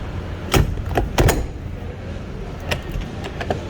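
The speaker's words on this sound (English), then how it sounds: "So try again, open the door." A freezer door with a newly replaced handle is handled in a short sequence of sharp knocks and clunks, with a few distinct thuds and latch clicks spaced over a few seconds, fairly close.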